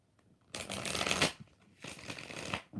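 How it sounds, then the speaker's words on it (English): A deck of tarot cards is riffled twice in quick succession, two dense, close-up bursts of rapid crisp flutter separated by a short pause. "We're going to do 4 shuffles."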